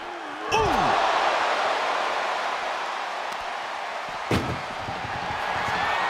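In the WWE 2K ambulance match video game, a wrestler forces open the ambulance door, heard as a sharp metallic slam followed by a steady crowd roar and a second thud a few seconds later.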